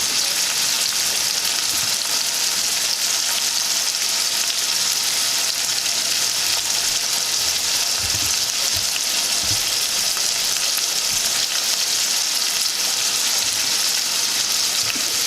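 Food fries in a pan for a Jamaican ackee and saltfish dish, giving a loud, continuous, even sizzle with faint occasional low bumps, close up and without speech.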